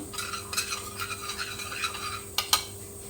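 Paneer marinade of spices with added water and salt being stirred by hand in a bowl, a series of scraping, rubbing strokes in an uneven rhythm, close and clear, ending with two sharper knocks, no talking.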